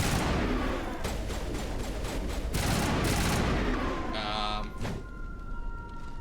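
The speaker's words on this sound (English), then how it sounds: "they're still shooting at someone" Sustained volleys of gunfire pound through a Mass Effect firefight, with dense repeated shots and thuds layered over game noise. A voice talks briefly in the background.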